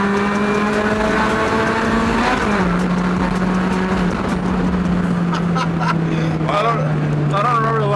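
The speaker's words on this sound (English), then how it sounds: "the tire's breaking loose at second gear is crazy" A car accelerates hard with its tires breaking loose in second gear, the engine roaring up, dipping briefly at a shift and climbing again loudly and close, with a voice talking over the final seconds.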